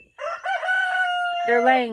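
A rooster crows loudly and close, one long drawn-out call that rises and wavers near the end, with hens faintly in the background.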